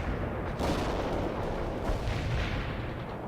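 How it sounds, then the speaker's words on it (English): Incoming gunfire and artillery from the World in Conflict video game: a dense, loud, continuous battle roar with heavy rumbling blasts and layered shots, without a pause through the whole stretch. "We're under attack. Incoming fire! Incoming fire!"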